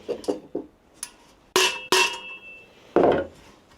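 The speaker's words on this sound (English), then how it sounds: "I'm going to try just tapping it out with a mallet." A mallet taps a stuck part out of a Workmate bench, making several sharp knocks: a few lighter taps, then three louder, ringing strikes spaced about half a second to a second apart.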